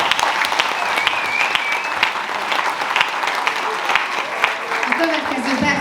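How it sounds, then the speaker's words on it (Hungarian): Audience applause at a Hungarian folk dance ensemble's 15th anniversary jubilee gala, a dense, steady clapping from a theatre crowd that holds for several seconds, with a brief whistle early on and faint voices beneath. "Kérek szépen neki egy nagy tapsot."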